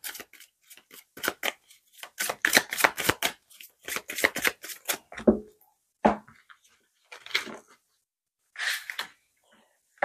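Tarot cards handled and shuffled up close, a run of quick papery riffles and flicks in rapid bursts, then a few slower card slaps and rustles with pauses.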